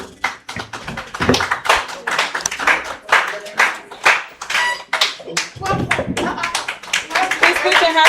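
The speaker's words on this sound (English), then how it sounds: "Give yourselves a very big round of applause." Close, uneven clapping from an audience at a Gen Z meeting, loud individual claps in bursts with people talking and cheering over it.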